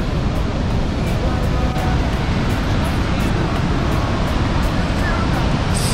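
Victoria Falls, a waterfall about 1,700 m wide that drops into a 100 m deep gorge, roars loud and close. The dense, unbroken rush of falling water holds steady throughout.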